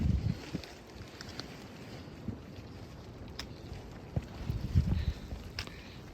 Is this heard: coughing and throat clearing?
no